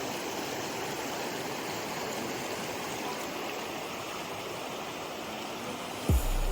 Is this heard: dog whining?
no